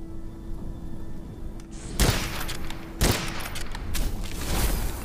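Two sharp rifle shots fired in the video game Witchfire, a second apart, each a loud close crack with a short tail, over a steady low game ambience.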